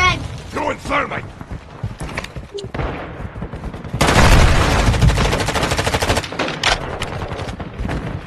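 Video game shootout gunfire, a dense run of rapid shots that starts about halfway through and keeps up loud to the end, after stretches of talking from several players.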